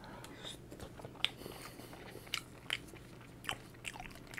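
Biting and chewing into a steak burger dipped in a spicy, creamy sauce, close to the mic, with several sharp crunchy bites and steady soft chewing between them.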